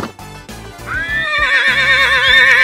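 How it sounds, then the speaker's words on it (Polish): Horse neighing loudly and close, a shrill wavering whinny that rises and trembles for about two seconds, preceded by a few soft hoof clip-clops, with no talking. "Koń, dobrze! Koń rży!"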